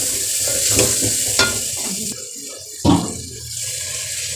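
Spices, green chili paste and tomatoes frying in a pan before potatoes are added for aloo gobi, a steady close sizzle with a few sharp stirring clatters.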